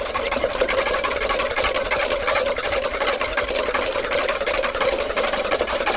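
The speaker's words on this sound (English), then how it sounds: "And then I will just start whisking this." Egg yolks, vinegar and melted butter whisked for hollandaise sauce, a steady dense scraping rasp that runs continuously and evenly at a loud, close level with no talk.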